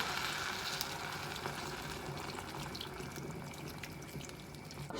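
Water pours into a pot of broccoli for vegan broccoli soup, a steady, faint splashing rush that continues evenly throughout with no talking.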